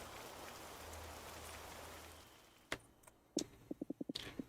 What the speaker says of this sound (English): The rain seems to be picking up.